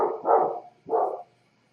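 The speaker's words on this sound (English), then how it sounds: "It's my dog barking." A dog gives two short barks in quick succession, fairly close, followed by quiet.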